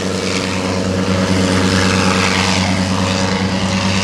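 Helicopter at a naval air station airshow flying backwards downwind, its steady rotor and engine drone loud and continuous with a low rhythmic beat, heard near and without talk.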